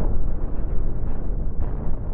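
Dense rumbling explosions and cannon fire from the space-ship battle game Cosmoteer roll continuously, loud and heavy with low booming bursts overlapping throughout.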